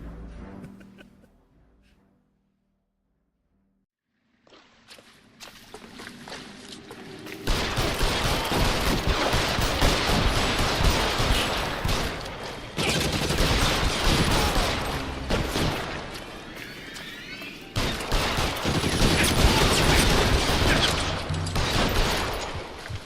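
Sustained bursts of gunfire in the video game L.A. Noire, loud and dense volleys that start after a brief quiet stretch, with no talking.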